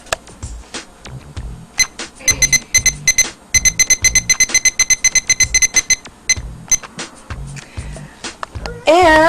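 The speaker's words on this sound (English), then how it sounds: "And I better set my trusty timer." A kitchen timer is set with a rapid series of sharp electronic beeps and button presses, ending in a louder ringing tone, while a person talks in a kitchen.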